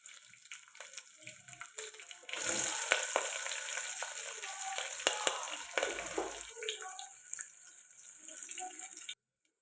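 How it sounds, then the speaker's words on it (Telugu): Chopped green chillies and onions fry loudly in a pan for a leafy-greens dal, a dense close sizzle with scraping stirs that starts a couple of seconds in and cuts off abruptly near the end, with no voices. "అలాగే కట్ చేసి పెట్టుకున్న పచ్చిమిర్చి ఉల్లిపాయలు అయితే వేసుకున్నాం"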